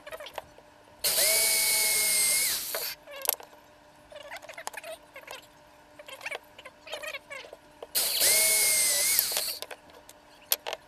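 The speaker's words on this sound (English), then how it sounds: "drill through the top piece." Two bursts of a power drill whirring through material, each about two seconds long, with clicks and handling noises between them.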